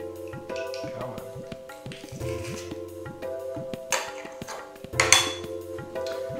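A whisk clinks and taps rapidly against a bowl, mixing a marinade with garlic cloves in a kitchen; light metallic rattles come in uneven bursts with a few louder knocks.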